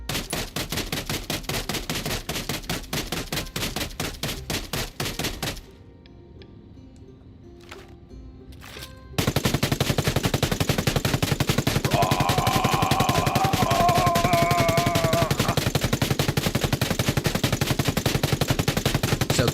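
Rapid automatic gunfire in the video game Ghost Recon Wildlands rattles loudly and continuously, breaks off briefly for quieter game ambience, then resumes in a dense, sustained burst.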